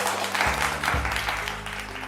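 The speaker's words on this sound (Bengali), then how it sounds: "হাততালি হয়ে যাক টিমের জন্য।" Studio audience applauding a game show team, a steady dense patter of many hands clapping that continues for about two seconds with no talk over it.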